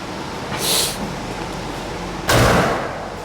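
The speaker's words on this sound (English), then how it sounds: "That door shut really nice." A 1977 Chevy Malibu's car door shuts with a solid thump, preceded by a brief hiss or rustle, close by in a quiet space.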